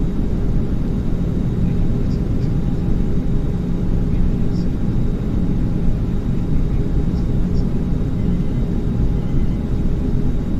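An Airbus A321 airliner in Microsoft Flight Simulator X gives off a constant, loud, dense engine roar and rumble from the cabin. A faint voice is heard briefly over it.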